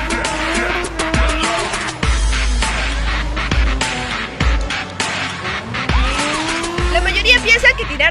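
A drift car slides through repeated tire squeals and skids over a steady engine drone, several screeching sweeps in succession at a grassroots drifting session in Lima, with voices partly underneath.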